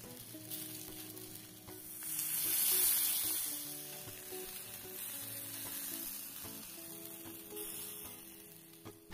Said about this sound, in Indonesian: Lalu ikannya kita bakar. Saya tutup supaya nanti matangnya merata.